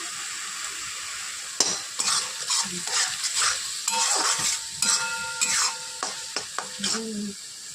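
Steady sizzling of spice paste frying in a pan for katla fish curry, with repeated scraping and clinking of a spoon stirring through it, close by and fairly loud.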